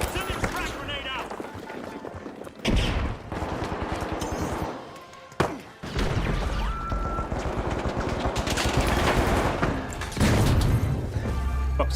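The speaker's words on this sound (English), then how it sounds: "Tossing a frag! Sending frag grenade out!" Frag grenade being thrown and blowing up in The Finals video game, set among a steady spray of gunfire and game noise, with a sharp blast standing out in the middle. A voice talks over it.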